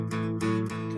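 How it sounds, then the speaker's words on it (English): An electric guitar plays a rock-and-roll style boogie shuffle in the 12-bar blues, with three quick, evenly spaced strummed chord hits that ring with sustained harmonics, close and clear. "that's kind of a rock and roll type of a feel when you do a boogie shuffle"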